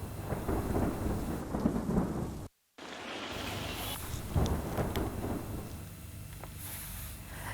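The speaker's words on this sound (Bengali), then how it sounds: "ঝোড়ো বাতাসের সঙ্গে সঙ্গে হয় বজ্রসহ বৃষ্টিও" A thunderstorm with rain and gusty wind: steady rain hisses over rolling thunder rumbles, broken by one brief dropout to silence partway through.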